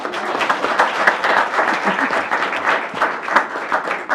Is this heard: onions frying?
no